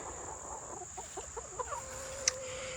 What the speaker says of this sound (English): And my hens, I've got 2 broody hens inside.